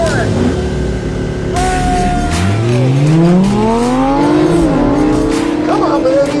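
Cars, including a Lamborghini, launching off the line at a drag race start: loud, continuous engine roar with a rising pitch as they accelerate away, rich in harmonics and close by.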